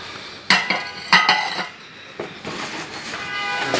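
Rice plates clatter as they are handled and set down, a few sharp ringing clinks followed by softer scraping and rattling, close by with no talking.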